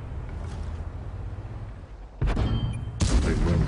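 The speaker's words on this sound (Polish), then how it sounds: "Tutaj błędny strzał, w sensie za późno jest ten spust." Tank cannon fire in a tank video game: a muffled engine rumble runs under the start, then two sudden heavy booming shots land about a second apart, loud and reverberant.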